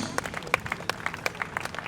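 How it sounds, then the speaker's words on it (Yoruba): Brief burst of audience clapping at a Yoruba memorial homage gathering, scattered sharp hand claps from a modest crowd, moderately distant and fairly soft. "Ẹ pa àtẹ́wọ́ fún Jésù."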